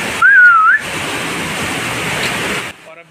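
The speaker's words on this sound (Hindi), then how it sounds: "काफ़ी अच्छा वाटरफॉल है गाइस" Steady broadband rush of the waterfall at Banjhakri Falls in Sikkim, a continuous close roar that holds for nearly three seconds, with a brief whistle-like tone near the start before the sound drops away at the end.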